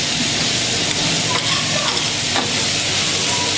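Onions frying in a hot pan while sausage is cooked, a loud dense continuous sizzle and crackle with a few brief stirring scrapes, close and alone.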